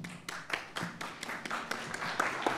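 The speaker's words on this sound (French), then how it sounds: "Merci d'applaudir Ayal." An audience claps for a contestant as they are introduced on a game show, giving sparse, distinct hand claps that are moderately close and fairly quiet, with no voices over them.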